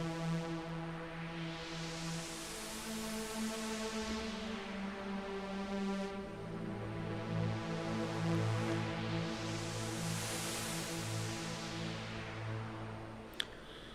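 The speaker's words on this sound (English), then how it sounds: "A bit of strings and a bit of reverb." Sustained string pads from a modular synthesizer swell and fade through a sine-wave LFO, washed in reverb, with slowly shifting chords and a gentle, airy sweep; soft and continuous, with no voices.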